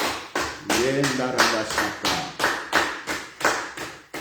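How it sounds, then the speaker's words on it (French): A church congregation claps in unison, the rhythm steady at about three claps per second and full in the room, with voices heard under the applause. "Nous acclamons."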